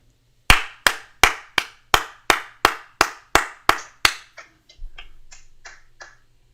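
Hand clapping by someone, about ten sharp, evenly spaced claps close up, followed by a few fainter, lighter taps trailing off, no talking.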